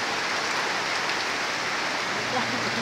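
Heavy rain pours steadily close by, a dense unbroken hiss of drops drumming on a surface throughout, with a low hum joining near the end.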